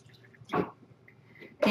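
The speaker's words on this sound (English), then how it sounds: "I love to free pour" Vodka free-poured into a cocktail shaker makes two short splashy liquid bursts, close and quiet, separated by a near-silent pause.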